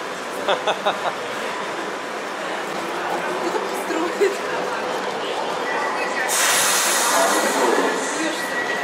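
Underground metro train at a small station, rumbling and clattering with rhythmic wheel clicks, then a high, loud screech of squealing wheels near the end; voices talk faintly over the noise.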